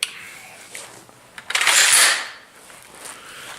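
An M1A Loaded rifle's trigger gives a sharp click up close, followed by a brief brighter metallic rattle, with faint room noise around it.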